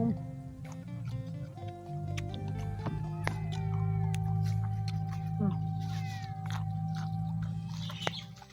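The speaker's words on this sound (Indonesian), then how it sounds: "Nah, kucing. Mungkin dia mau jengkol." A cat meows several times at a mealtime with jengkol rendang, its short rising calls heard close by over low steady hum and brief bits of chewing and talk.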